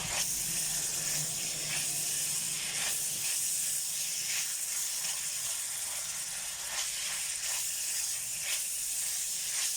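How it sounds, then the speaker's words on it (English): Strips of bacon sizzle and crackle steadily in a hot pan while crisping for a Lithuanian kugelis dish, a continuous close, loud hiss with scattered pops and no talking. "I just want the bacon now to nicely crisp up"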